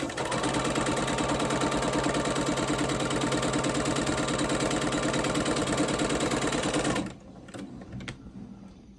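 Sewing machine stitching a quarter-inch seam on a Chestnut Grove Nutmeg quilt block: a fast, steady mechanical whir with rapid rhythmic needle clatter for about seven seconds, then it stops abruptly, leaving quiet handling noises.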